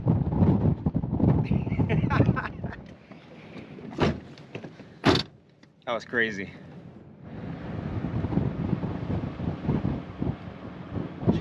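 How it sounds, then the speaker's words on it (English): Strong wind gusting in Afghanistan, a loud broadband roar buffeting the microphone with a brief lull mid-clip, while people talk and exclaim over it. "The wind is literally strong enough to push you!"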